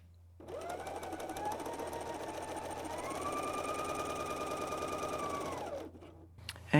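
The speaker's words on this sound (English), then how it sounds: "I have set my machine for 3-thread overlock with right needle" A Bernina L 660 overlocker runs a 3-thread overlock seam with the right needle, a steady fast whirring hum for about five seconds that rises slightly in pitch midway, then winds down and stops.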